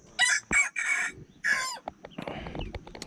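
A rooster crows near a forest hut, several loud drawn-out calls in close succession, then hens cluck and rustle in short choppy bursts nearby, with no talk.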